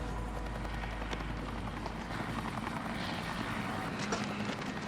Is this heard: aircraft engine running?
yes